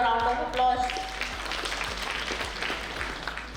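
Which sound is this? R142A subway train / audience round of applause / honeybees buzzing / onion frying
audience round of applause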